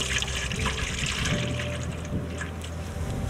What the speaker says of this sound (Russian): Так, наливаем литр молока.